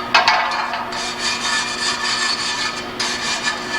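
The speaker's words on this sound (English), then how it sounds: "Clean the outside surfaces where they're made with a wire brush." A wire brush scrubs the outer surfaces of a wheel spacer from cast spoke wheels, a close, steady gritty rasping in repeated strokes with a brief pause near the end.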